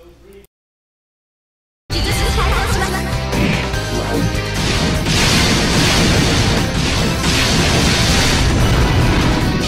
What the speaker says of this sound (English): Noelle goes crazy with her pistols, hitting you 43 times before causing a massive explosion at your feet, which finishes you off.